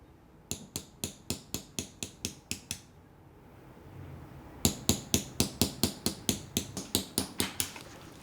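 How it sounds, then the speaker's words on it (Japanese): A steel hammer taps a tagane chisel while engraving metal by hand, in crisp, evenly spaced strikes. One run of about ten sharp taps is followed by a short pause, then another rhythmic run. "一丁の金槌とタガネと呼ばれる道具だけを使う金工技術、彫金。"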